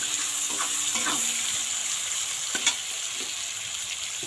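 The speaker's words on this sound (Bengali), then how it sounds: "কুচিয়ে রাখা পেঁয়াজটা দিয়ে দিলাম," Chopped onion hits hot oil with garlic for a small river fish dish, producing a loud, continuous sizzle with a few light stirring knocks, and no voices.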